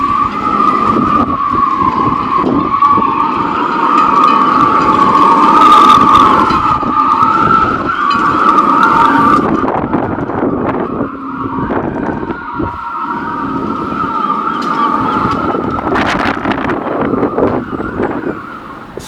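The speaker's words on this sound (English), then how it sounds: "I'll let you listen to the wind and the rigging" Wind whistles and moans through boat rigging during a storm in a sustained, wavering tone, with rattling and gusty noise rising and falling throughout, loud and close.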